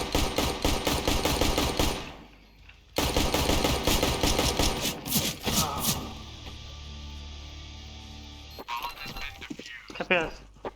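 Counter-Strike gunfire, rapid automatic bursts that run for several seconds and pause briefly before more shooting, with game effects and a voice coming in near the end.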